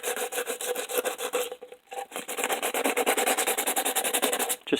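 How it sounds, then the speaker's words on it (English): Sandpaper is rubbed by hand over a slick plastic part, making close, raspy back-and-forth strokes in a quick steady rhythm with one brief pause. "I'm going to take some sandpaper and we're just going to rough this up."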